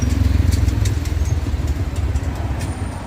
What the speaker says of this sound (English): That bike sounds like he's running out of gas